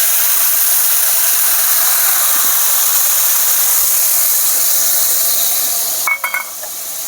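Ground onion, garlic and green chilli paste frying in hot oil, a loud, continuous sizzling hiss filling the clip, with a few clinks near the end.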